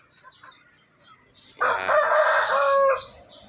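Pet rooster crowing loudly and close on a small vegetable farm, one long cock-a-doodle-doo following a few faint bird chirps and quiet background noise.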